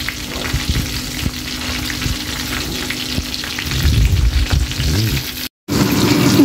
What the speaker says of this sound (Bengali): এভাবে করে আমি কয়েকবার করে ঘুরে ভেজে নেব।